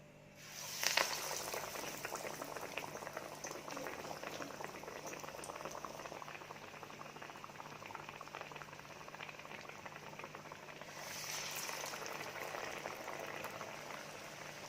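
Masala vada fritters of chana dal, urad dal and toor dal deep-fry in hot oil with a steady, dense sizzle. Louder bursts come early and again near the end, and no one speaks.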